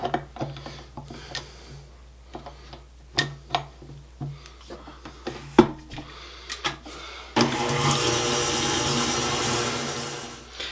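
Butter and half a cup of white sugar being beaten together in a bowl for oatmeal chocolate chip cookie dough: scattered knocks and scrapes at first, then a loud, steady whirring beating sound that continues to the end, with no talk.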